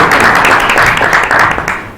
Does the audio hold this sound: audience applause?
yes